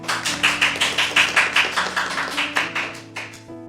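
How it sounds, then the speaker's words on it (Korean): A studio audience claps in steady rhythmic unison to welcome two elders of Songtan Presbyterian Church as guests on a church talk show, with crisp, evenly spaced claps that slow and thin out toward the end. "박수!"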